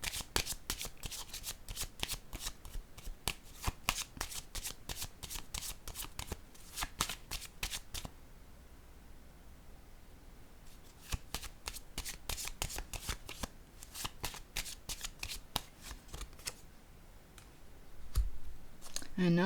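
Playing cards shuffled over and over for a card reading, crisp riffling bursts in steady runs with a short pause midway, close and fairly quiet, with no talking.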